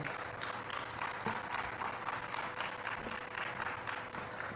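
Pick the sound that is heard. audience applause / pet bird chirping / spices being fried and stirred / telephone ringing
audience applause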